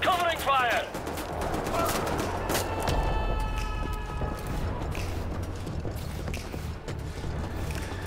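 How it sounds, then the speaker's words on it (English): Covering gunfire in Wolfenstein The New Order VR, a first-person shooter: steady automatic shots rattle over a dense battle din, close and fairly loud, with shouting voices early on. "Protect the lads on the wall! Covering fire!"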